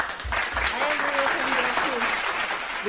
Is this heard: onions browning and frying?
no